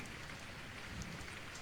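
Rain in a fantasy audio drama, a soft, steady patter of drops falling on a surface, faint and continuous.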